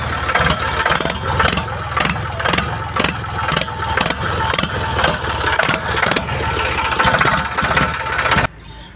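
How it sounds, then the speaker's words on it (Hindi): A used 2005 tractor idles at a tractor market in Sambhal district, its engine thumping in a steady, rapid rhythm, close and loud, for about eight seconds before cutting back sharply near the end. "देखिए दोस्तों, कितनी शानदार आवाज थी ट्रैक्टर की"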